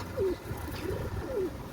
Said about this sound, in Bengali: পাকিস্তানি রামপুরি কবুতর